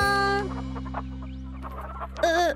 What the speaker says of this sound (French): Milo, Lark, les poules nous ont suivis.